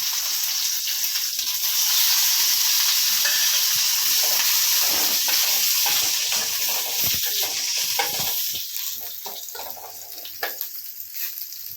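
Curry leaves and two dried red chillies sizzle in hot oil after mustard seeds have popped, a loud, dense crackling hiss that settles slightly toward the end, with occasional stirring clicks and no talking.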